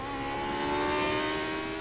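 A screaming race car engine from the Automobilista racing game, driving an Aussie Racing Car at Adelaide, holds a steady high-revving whine at full throttle, loud and continuous throughout with no speech.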